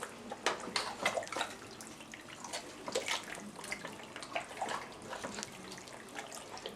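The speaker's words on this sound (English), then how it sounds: "So we get our spices in there, give them a good mix into the base." Spices are stirred into a thin Indian restaurant-style base gravy, making continuous wet sloshing and splashing with irregular liquid bursts that stay close and fairly quiet.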